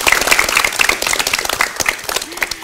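Studio audience at a televised language program claps briskly, a loud, close burst of overlapping hand claps with a few sharp individual strikes, tapering slightly toward the end.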